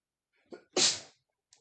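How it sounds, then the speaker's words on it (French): A single sneeze in a quiet room, one sharp, loud burst after a brief intake of breath, followed by a faint short sound. "Excusez-moi, j'ai éternué."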